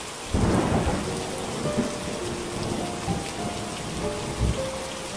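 A thunderstorm sound effect in a story: steady heavy rain pours throughout while a deep roll of thunder breaks near the start and another rumbles toward the end, with no voices.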